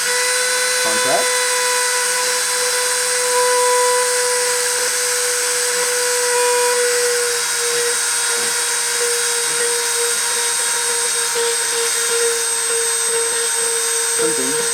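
A deposition printer runs with its spindle spinning, giving a steady high whine with a sustained mid tone and faint mechanical ticks throughout, close and continuous without pauses.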